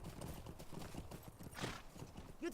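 Horse hooves clip-clopping in a race in The Lord of the Rings Online, a rapid galloping patter of game hoofbeats with a brief whinny near the end, faint and alone.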